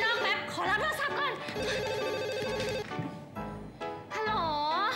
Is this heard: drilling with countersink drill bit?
no